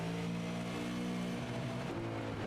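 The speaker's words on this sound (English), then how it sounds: "Now listen to this car." A super late model race car circles the track with a steady, droning engine roar that dips in pitch partway through, then shifts again as it carries on. The roar is heard alone, without talk.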